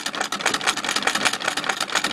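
A Singer treadle sewing machine running at a quick, even pace, with a rapid rhythmic mechanical clatter heard close up and alone.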